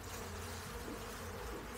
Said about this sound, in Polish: Prawdopodobnie jest, bo jest tu duże skupisko pszczół